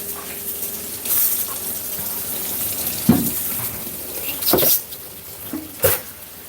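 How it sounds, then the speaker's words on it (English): Hot water runs from a tap in a steady wash, broken by a few sharper splashes and clinks as it fills a sink. "I'm just letting out the steam out of it while run some hot water"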